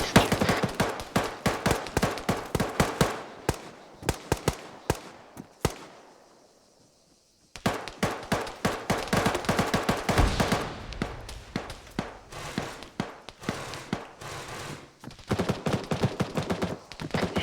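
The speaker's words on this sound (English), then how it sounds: "Heavy fire from somewhere." Heavy gunfire from a training exercise: dense, rapid volleys of sharp shots crackle close and loud, stop for a short gap, then resume in fast bursts for the rest of the clip.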